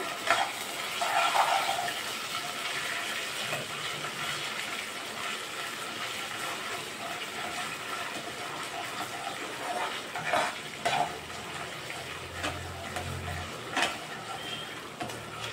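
Ginger garlic paste sizzles steadily in a pan, a continuous close frying hiss with occasional scrapes and clinks of a spoon stirring against the metal, no voices.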